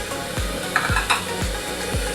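Green chillies fry and get stirred in a pan for a coconut milk mutton gravy. Steady sizzling runs under evenly spaced scrapes of a spoon, about one every half second.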